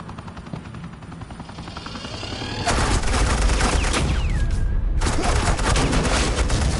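Heavy suppressing gunfire in a Batman video game, a loud continuous burst of automatic fire that swells in and keeps going, nearly drowning out everything else.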